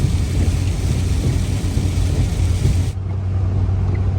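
Steady rain drums over a car's low road rumble at night, a constant wash of noise with no voices.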